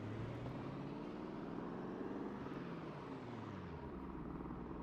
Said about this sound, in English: I can hear the helicopter from earlier.